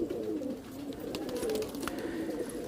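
Rajasthani pigeons coo in soft, low, rolling murmurs close by, overlapping continuously with faint rustles and clicks in the background.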